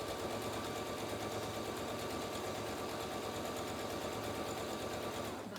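A sewing machine runs steadily and close by, stitching a fabric face mask with elastic, its fast mechanical whirr holding an even level throughout with no voices.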